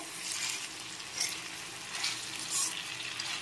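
Chopped vegetables and tomato fry in a hot pan for cheesy Maggi noodles, giving a steady, loud sizzle and hiss with soft rhythmic swells as they are stirred.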